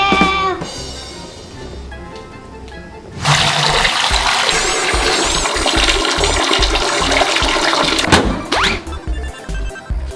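Water gushes steadily into a bathtub being filled for a bath, a loud continuous rush that starts abruptly a few seconds in, after a quieter stretch, and runs on before easing near the end.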